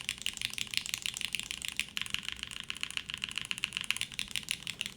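Fast, steady typing on a One Piece themed mechanical keyboard fitted with Nixie switches, producing a dense clatter of close, crisp key clicks and rattles with no talking.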